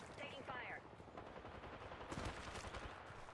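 Rapid bursts of gunfire in a battle royale video game, dense crackling shots over a busy game mix, with a brief voice and tonal chirp near the start.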